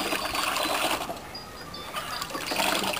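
Cochineal-dyed fabric is rinsed in water, giving a steady close sloshing and swishing with some splashy surges and no voices.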